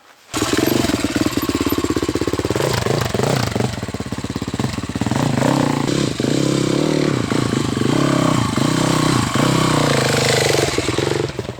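An enduro dirt bike rides over road obstacles and debris, its engine loud and close throughout, pulsing and revving with clattering thumps as the wheels climb and drop over objects.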